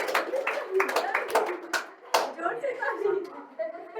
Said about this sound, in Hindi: ताली बजाना इसके लिए